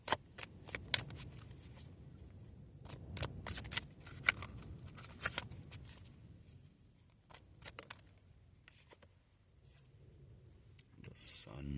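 Tarot cards are shuffled in soft, repeated riffling bursts with scattered clicks, faint and close, ending in a louder flurry.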